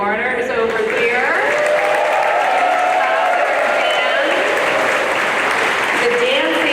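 An opening ceremony audience at the Fall Games claps and cheers for VIPs, a dense, sustained wash of applause with crowd noise that stays loud and even throughout, with an announcer's voice over it.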